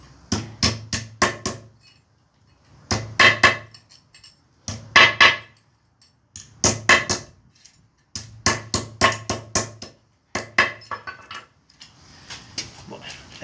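Hammer blows straighten a small bent metal plate from a clutch during a full strip-down of a Torino engine, in quick bursts of four to six sharp metallic strikes separated by short pauses.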